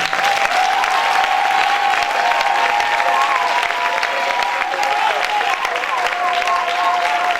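A church congregation bursts into sustained, loud applause and cheering, a dense wall of clapping that stays steady and close throughout with voices mixed in.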